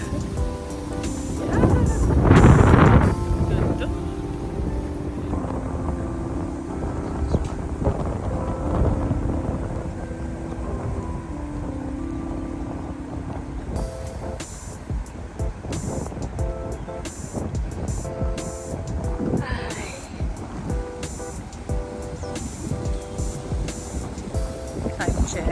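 Steady, strong, cold wind blows and rumbles across an open microphone throughout a morning walk in a park, with a person talking underneath it.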